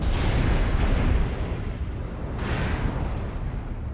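A missile explosion in a video game, a loud broad roar that starts strong, dips, then swells again with a second rumbling burst, steady and near with no voices.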